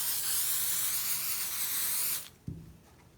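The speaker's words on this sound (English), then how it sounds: "and give it a nice spray." A steady hiss of aerosol spray onto the backing of a pumpkin placemat runs for about two seconds, then cuts off, followed by a soft thump.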